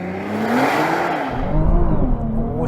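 A 2021 Nissan GT-R NISMO launches hard from a standstill, its engine roaring loud and close as the revs climb and shift, with a whirring drivetrain and tires struggling for grip, no talking.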